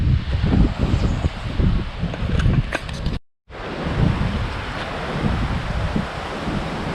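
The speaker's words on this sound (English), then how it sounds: "By the way, it's always windy here." Strong trade wind on an Aruba beach buffets the microphone with a steady roar, broken by a brief dropout midway, with a faint wash like surf underneath.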